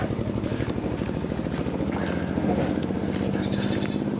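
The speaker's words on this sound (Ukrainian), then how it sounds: "Ще один звук знайомий мені з дитинства маленька кізочка" A young goat bleats over a steady mechanical rumble, close by and fairly loud, with the engine-like drone continuing throughout.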